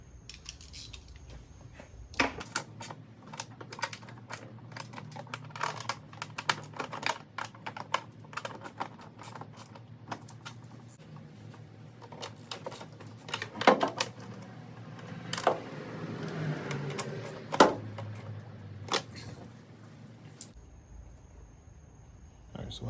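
A ratchet snugging the spark plug coil bolts on a 2017 BMW 330i F30, a run of rapid close clicks and ticking bursts, with a few louder clacks between quieter stretches.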